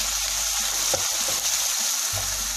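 Tomatoes with salt, chilli and turmeric frying in a pan for vegetable biryani, a steady close sizzle with a few stirring scrapes and brief pauses.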